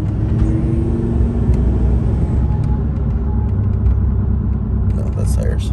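Steady low road roar of a pickup truck's tires humming on pavement while driving, a loud continuous drone that sits under quiet speech throughout.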